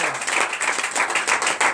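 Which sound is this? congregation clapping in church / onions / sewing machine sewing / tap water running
congregation clapping in church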